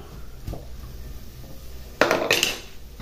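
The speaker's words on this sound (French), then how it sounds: "Et je continue de couper mes saucisses." Chipolata sausages cut with a knife on a board, a few dull taps followed by a short burst of louder chopping knocks, close by.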